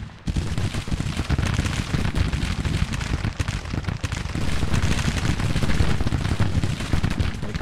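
Dense, continuous Civil War musket and cannon fire rolls from a battlefield in the video game Hold the Line, a loud unbroken rumble of overlapping volleys from start to finish.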